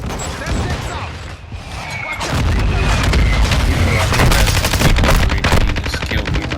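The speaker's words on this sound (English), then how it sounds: "Hostile mortar strike near your position." Mortar strike explosions in a Call of Duty match: heavy booming blasts and rapid gunfire-like bursts swell after a quieter opening and keep a loud, dense roar through the rest of the passage, with talk mixed in.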